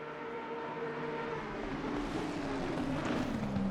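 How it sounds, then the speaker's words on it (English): A 5.4-litre V8 and a 6-litre V12 race car in a sim racing game at Spa, running together as a steady, loud, layered engine drone with tones that shift as they climb. "Just the sonorous cry of that V12 up against the rumble of that V8."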